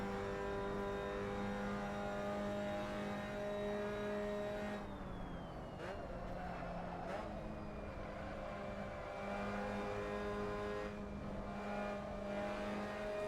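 A Mazda MX5 race car engine at Lime Rock Park drones steadily at high revs from inside the car, with a brief dip and whine shift mid-run as the throttle is eased before climbing back, alone with no talk.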